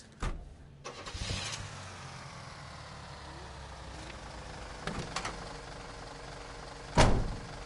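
A fire truck engine in L.A. Noire turns over with a short starter burst and settles into a low idle rumble, with a couple of sharp clunks and a louder burst near the end.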